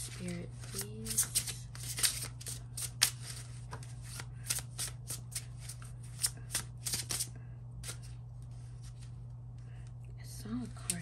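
A deck of tarot cards being shuffled by hand during a card reading, giving soft rapid riffles and flicks in short bursts over a steady low hum, with a voice speaking at times.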